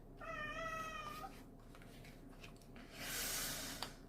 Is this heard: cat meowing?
yes